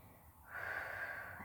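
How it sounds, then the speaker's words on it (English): A slow, deep breath drawn in during a yoga session, a faint breathy hiss that rises partway through and holds, heard close over low background hum. "Take a moment, breathe in."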